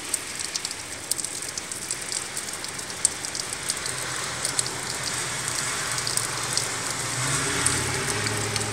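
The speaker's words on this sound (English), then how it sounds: "Oh, the rain's coming in the house." Heavy rain pours steadily on the fourth day of nonstop rain, a dense, close hiss of drops pattering on surfaces with faint low rumble underneath and no voices.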